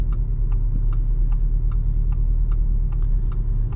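A 2021 Audi TTS in dynamic mode with its 7-speed dual-clutch transmission hums as a low, steady engine drone heard from inside the cabin, with a faint regular ticking over it and no talk.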